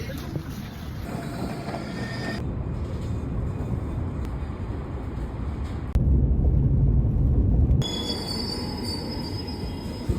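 A Eurostar train running between the Netherlands and London, with steady loud rumble of wheels on rail and a brief squeal, the rolling noise swelling louder for a couple of seconds near the end.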